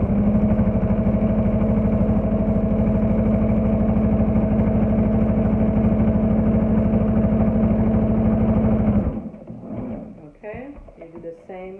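Close up, a sewing machine stitches the hem of a homemade mask cut from shop towels. It runs in a steady rapid chatter for about nine seconds, then stops, and a person talks over a few small handling noises.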